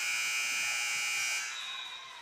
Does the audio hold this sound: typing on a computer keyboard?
no